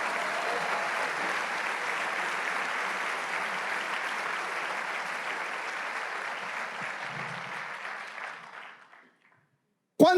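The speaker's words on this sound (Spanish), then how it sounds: "Vamos, dale ese aplauso." A church congregation applauds in a long, sustained burst of dense clapping that holds steady for about eight seconds, then fades and cuts out, leaving a short silence before a brief, sharper sound at the very end.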